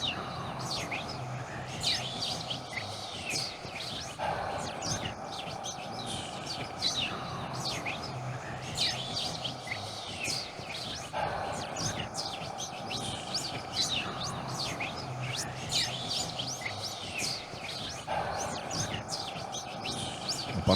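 A recorded swallow chirps in repeated bursts of quick, high tweets, played back at moderate volume over a faint background hum, with the pattern recurring every few seconds.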